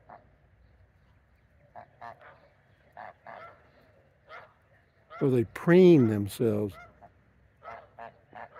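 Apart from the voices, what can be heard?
geese honking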